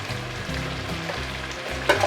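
Medium-cut beef pieces with turmeric powder and salt sizzle in a hot pan, a continuous close frying hiss with a brief stirring clatter near the end, no voices.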